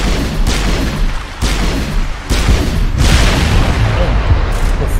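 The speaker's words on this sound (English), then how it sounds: "What was that explosion?" Explosions and heavy combat fire from the video game Mass Effect, a series of loud booming bursts and rumbling blasts in quick succession, with a voice talking over them.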